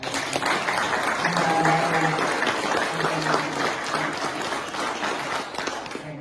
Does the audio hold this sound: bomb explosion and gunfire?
no